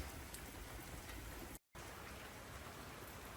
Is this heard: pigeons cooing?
no